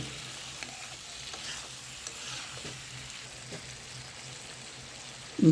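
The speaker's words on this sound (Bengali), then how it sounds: "কারকল দিব ভালো করে মিক্স করবো" Teasel gourd and jatka fish cook in a pan under a low, steady sizzle with occasional soft stirring scrapes, close but quiet throughout.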